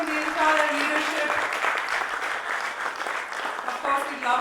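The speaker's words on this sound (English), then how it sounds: "This has to be your loudest round of applause" Loud, sustained round of audience applause for the leadership panel at a procurement leaders summit, dense clapping throughout with cheering voices mixed in.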